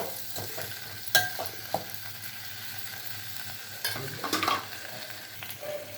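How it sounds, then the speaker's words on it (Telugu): Okra frying in a pan, a soft continuous sizzle with a few sharp clinks and scrapes of stirring, moderately near and without talk. "బెండకాయలు వేద్దాం. ఒక 2 నిమిషాలు మగ్గనిద్దామండి."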